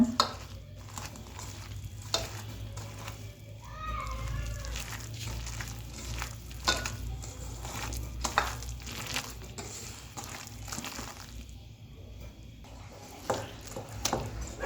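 Pumpkin leaves being mixed by hand into a turmeric-coloured batter give a steady wet squishing and stirring, close and continuous, with occasional sharper clicks of a bowl, and a little talk around it.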